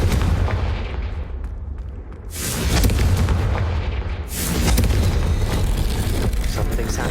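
A Confringo blasting spell detonates in Hogwarts Legacy, two heavy booming blasts a couple of seconds apart, each leaving a rolling roar over dense background rumble.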